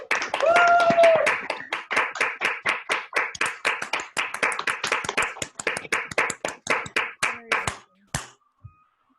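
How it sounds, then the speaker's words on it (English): An online public speaking meeting audience claps together after unmuting, a dense burst of overlapping handclaps over several seconds that thins out into a few scattered final claps. "give Horatio and Lenka a real round of applause"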